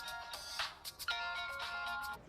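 A phone rings with a bright, tonal electronic ringtone pattern in a Bollywood movie scene, moderately faint and repeating, with no speech over it.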